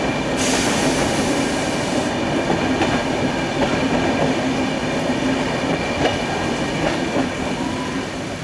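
The Amravati Express rolls through a tunnel with a steady, enclosed roar and rhythmic wheel clatter, occasional faint squeals over a continuous heavy rumble heard from on board.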